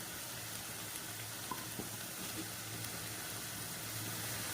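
Potatoes are added to a chicken white curry in a frying pan, giving a steady, faint sizzle with a few soft stirring clicks.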